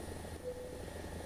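An AH-1Z helicopter in War Thunder gives off a steady, faint engine and rotor drone, with a brief high warning tone partway through and no voices.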